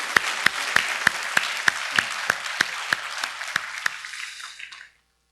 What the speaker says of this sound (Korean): 우리 큰 박수로 격려해 주시면 고맙겠습니다